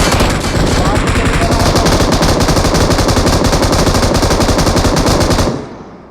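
Sustained automatic machine-gun fire from a video game rattles loud and continuous for several seconds, then cuts off abruptly.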